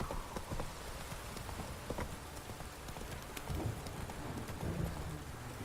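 Geralt's horse Roach trots steadily in The Witcher 3, with hooves clip-clopping in an even rhythm over a soft bed of rain patter, close and moderately loud with no talking.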